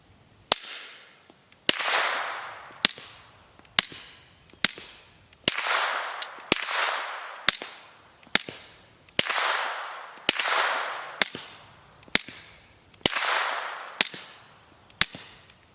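A suppressed Smith & Wesson M&P Core pistol with a YHM booster fires 9x19mm 151-grain FMJ subsonic Barnaul rounds outdoors, about fifteen sharp, moderately loud shots at roughly one-second intervals, each with a short echoing tail.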